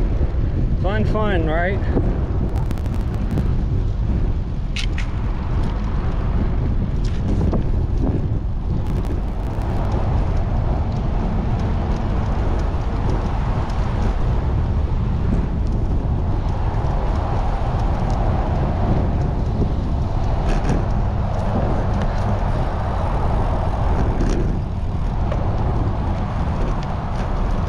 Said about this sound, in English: In the headwind again.